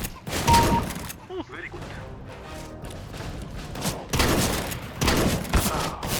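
Counter-Strike: Global Offensive gunshots, a handful of sharp reports spread over several seconds amid in-game sounds, with someone speaking briefly near the end.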